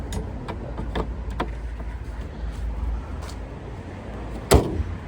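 The bonnet of a Ford Focus 1.6 Zetec petrol is shut with one sharp, loud thump near the end, after quieter handling knocks and rustles in a garage.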